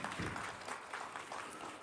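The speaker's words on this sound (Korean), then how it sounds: "박수 보내드리겠습니다." Congregation applauds to welcome church members during a Sunday worship service, a steady patter of clapping throughout with no speech over it.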